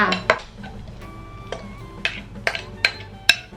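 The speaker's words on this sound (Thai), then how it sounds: "เดี๋ยวฟานจะเทใส่ไปในหม้อนะคะแล้วก็ไปคนในหม้อกันต่อจ้า" Sweet shrimp paste being poured and scraped from a utensil into a cooking pot, heard as a string of sharp, separate clinks and taps against the pot spread over a few seconds, close by and with no talk.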